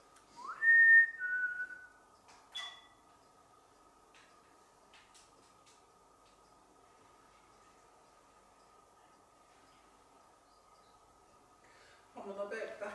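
In a historic Guild Hall, a single clear whistled note rises and holds early on, followed by a short chirp, then long quiet room hum before a burst of voice-like sound at the end.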